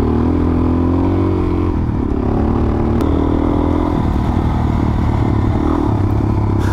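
A Suzuki DRZ400 dual sport motorcycle runs steadily on a single-track trail in Idaho, its engine droning loud and close throughout with some clatter from the terrain and no talk.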